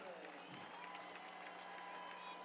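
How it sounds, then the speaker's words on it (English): Soccer stadium crowd applauding a player late in a Sacramento Republic FC match against OKC Energy FC, a steady far-off wash of clapping with some crowd noise throughout, with tonal hum mixed in. "the crowd is letting him hear it as well"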